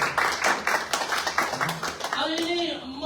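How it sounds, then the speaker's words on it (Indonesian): A church congregation claps for God in a rhythmic burst, many hands together under a loud room tone, before the clapping gives way to a voice speaking. "Berikan tepuk tangan untuk Tuhan Bapak Ibu."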